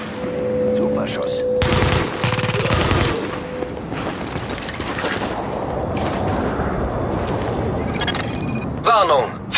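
Gunfire in the video game The Division, with bursts of rapid shots and loud impacts filling most of the stretch, layered with game effects and ambient battle noise, and speech nearby.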